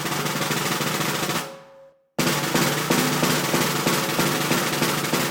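A continuous snare drum press roll played with uneven pressure in each hand, dense and buzzy, with a slightly uneven texture; it cuts off briefly to silence before resuming at the same loud level.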